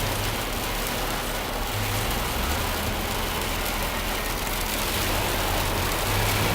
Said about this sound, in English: Got a rain, hailstorm going on.